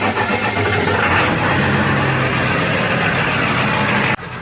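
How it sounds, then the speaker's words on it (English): A straight-piped 7.3L Power Stroke diesel engine in a van cranks and fires, settling into a loud, deep, rumbling idle heard close up for several seconds before cutting off abruptly. "once I move to the back, should be able to hear the difference in the exhaust tone"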